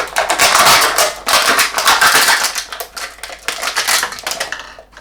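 A knife hacks and saws through an opened plastic PET soda bottle, giving a rapid run of close, crackly scraping and crunching strokes with brief pauses between them.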